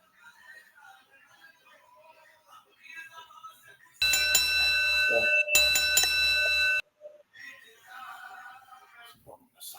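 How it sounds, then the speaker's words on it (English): A bright electronic bell rings loudly in two sustained bursts with a short gap between, framed by quieter chatter before and after. "We're going to start it off today by ringing that bell."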